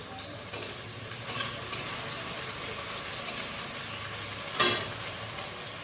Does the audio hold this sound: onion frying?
yes